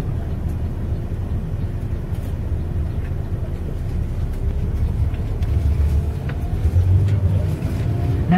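From inside a moving tour bus, a continuous low engine rumble and road drone run steadily throughout, swelling slightly toward the end, with no talking.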